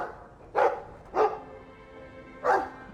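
Three loud, close barks from a Mabari war dog in the video game Dragon Age 2, spaced irregularly with short gaps, heard alone without talk.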